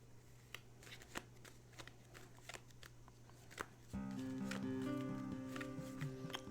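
Cards are shuffled by hand, with soft irregular riffling clicks and snaps that continue throughout, quiet and close, while music starts up partway through.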